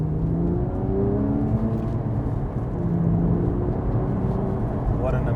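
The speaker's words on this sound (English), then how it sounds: "let's just hear this exhaust." Porsche 911 Carrera S of the 997.2 generation with its exhaust pulling hard in second gear, a steady loud engine note whose harmonics climb as it accelerates over the full stretch.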